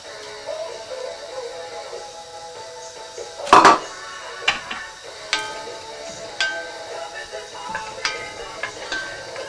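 Onions and peppers drop into a pan sprayed with Fry Light, starting with a loud clattering tumble, then soft sizzling and scattered taps of stirring in a quiet kitchen.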